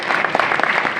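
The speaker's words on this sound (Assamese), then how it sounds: "সকলোৱে এটা হাত তালি দিয়ক।" Brief burst of audience hand-clapping welcoming the inaugurating actor at a namghar centenary celebration in Assam, a quick dense patter of many hands, close and loud for about a second.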